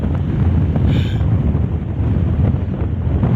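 Strong sandstorm wind on a beach in Peru, a loud continuous roar buffeting the microphone with steady rumbling gusts and no voices.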